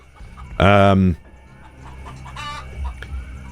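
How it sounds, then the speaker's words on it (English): In the game Cryptmaster a chicken gives one loud, harmonic squawk, followed by a softer second cluck a moment later over a low background hum. "Is it a chicken? I hear chicken noises."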